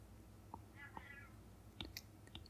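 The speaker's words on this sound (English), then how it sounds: "Can you hear that cat outside?" A cat meows outdoors at night, two or three short cries at moderate distance over a steady low hum, followed by faint clicks and small chirps.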